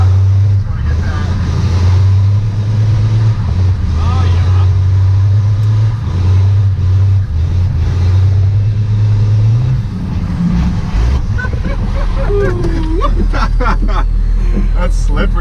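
12v Cummins diesel box truck drifting on an onramp, its engine droning low and steady then revving as traction breaks loose, with people talking over it.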